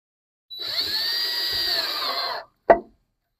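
A power drill drives screws into a gutter being fitted on a Yardistry gazebo: one steady two-second whir that stops, then a short sharp clunk.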